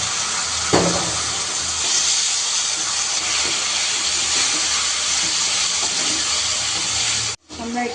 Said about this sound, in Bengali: অ্যাড করে দেবো সামান্য পরিমাণ পানি